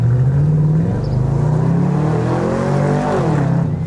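Engine of a Camaro convertible pulling away and accelerating, a loud, steady drone whose pitch climbs and then settles, close by with no talking.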